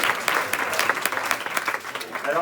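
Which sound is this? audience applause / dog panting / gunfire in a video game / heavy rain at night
audience applause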